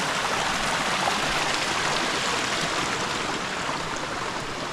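A small woodland creek runs over little waterfalls on a trail, giving a steady, broad rushing and splashing close by, unbroken with no voices.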